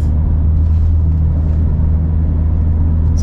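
Inside a BMW fitted with a swapped DCT gearbox and single-mass flywheel, cruising in seventh gear with the AC turned low. A steady, loud low rumble of tire and wind noise runs throughout without talk, with a small knock right at the end.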